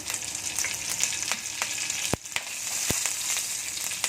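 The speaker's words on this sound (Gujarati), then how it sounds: "પાંચથી છ મીઠા લીમડાના પાન લઈ લીધા છે" Curry leaves and chopped green chilli crackle in hot tempering oil for a Gujarati kadhi, a dense close sizzle with a couple of sharp spluttering pops, no talking.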